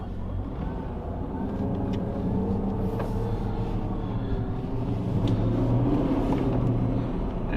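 A supercharged Mercedes CL55 AMG drives around a block, its engine a steady low rumble heard from inside, swelling slightly as it pulls away.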